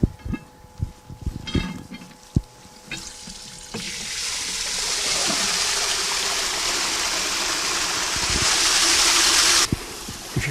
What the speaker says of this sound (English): you'll see the water come to the wheel and start it moving.